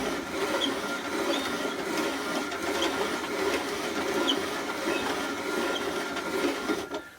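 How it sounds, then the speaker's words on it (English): A hand-cranked Sunshine Nugget mill grinding hard red wheat, a steady gritty crunching rattle that keeps up without pause, close and moderately loud with no talking. "I use the poker here to move it towards the front and then crank."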